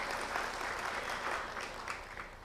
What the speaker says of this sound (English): can we have a great round of applause for Dr. Rajendra Singh, the Waterman of India.